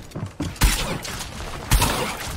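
Gunfire from the Fortnite video game: two loud, close bursts of rapid shots, each followed by a sustained rattling tail of fire.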